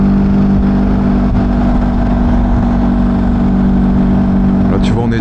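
A modified motorcycle with a tuned, slightly loud exhaust cruises steadily in sixth gear, its engine humming at a constant pitch under wind noise while the rider talks over it.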